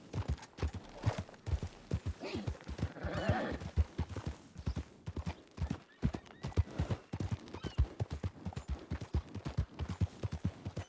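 Hooves clip-clop in a steady trotting rhythm, close and clear, with a horse whinnying partway through; a roan horse in Red Dead Online.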